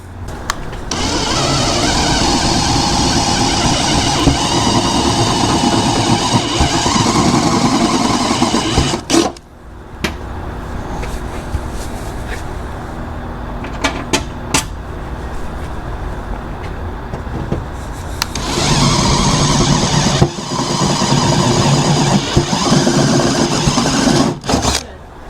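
A step drill bit bores holes for a Dobinsons 4x4 snorkel install on a Toyota Tundra, with loud whirring bursts of drilling, a quieter stretch of clicks and handling in the middle, then another burst of drilling.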